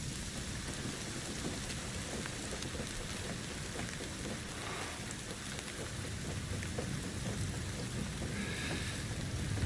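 Steady rain falls at night in the video game Indiana Jones and the Great Circle. It makes a dense, continuous patter with a low rumble underneath, and the level stays even throughout.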